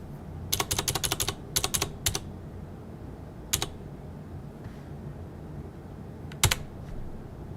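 Quick bursts of clicky keystrokes on a computer keyboard during a programming session, several rapid clusters then isolated taps, fairly close and quiet with no talk.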